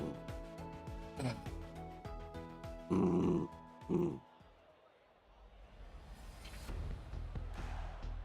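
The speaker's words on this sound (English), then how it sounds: "Oh, that growling, boy." A pet dog named Momo growls in low rumbling bursts near the microphone at home, with a couple of louder sharp outbursts in the middle and quieter stretches between.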